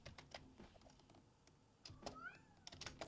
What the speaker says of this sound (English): Can you guys hear her meowing?